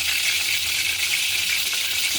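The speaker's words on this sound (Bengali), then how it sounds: "আমি মাছগুলো আস্তে আস্তে এবার ভেজে নেব" Rohu fish frying in hot oil for a Bengali fish curry, giving a steady, dense sizzle that runs evenly throughout without speech.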